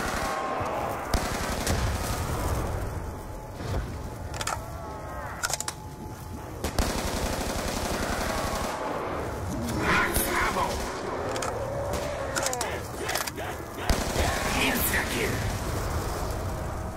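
Sustained video game gunfire from a zombie survival match at a bus depot, bursts and single shots crackling over a busy mix, with players talking over the shooting.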